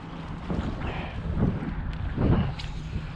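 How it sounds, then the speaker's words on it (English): Wind blows across the microphone on a cold, windy 48-degree day of bass fishing on the water, making a steady rushing roar that swells in a couple of low gusts. "48 degrees windy day."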